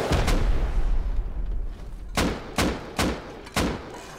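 Gunfire in the online survival game Rust starts as a dense burst of rapid shots, then turns into four or five heavier single booms spaced about half a second apart, loud and close, with no speech.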